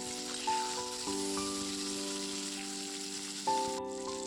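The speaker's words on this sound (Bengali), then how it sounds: "মশলাটা একটু হালকা কষিয়ে নিয়ে" Ginger and chili powder sizzling in hot oil as spices fry for a fish curry, a steady bright crackle throughout with a few sharper pops, close and alone, a faint tonal hum running underneath.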